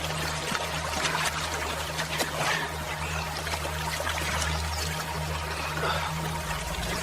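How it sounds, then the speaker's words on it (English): Stream water flowing steadily in the open, a continuous close trickling and pouring wash with a low steady hum underneath and no talk. "Finally, we found a stream with good drinking water."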